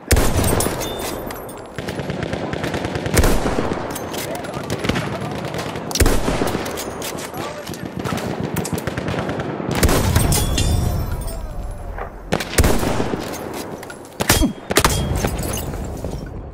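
Rapid machine gun bursts and gunfire crackle loudly through a video game battle, with repeated volleys, booming impacts and short pauses between clusters of shots.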